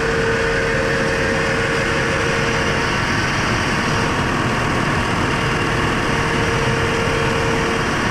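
A Mitsubishi 4G63 engine idles high after a cold start, a loud, constant droning rumble with a hum from the exhaust, steady throughout and free of speech.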